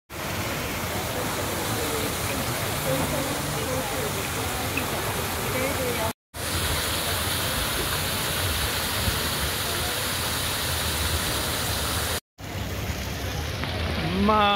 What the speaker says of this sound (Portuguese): Mais uma bela fontana italiana.